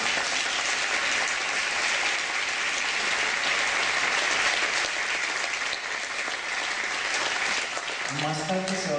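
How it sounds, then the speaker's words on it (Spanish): Audience at an arts projects presentation applauding loudly and steadily for several seconds, a dense wash of clapping with a voice starting to speak as it fades at the end. "Un gran aplauso."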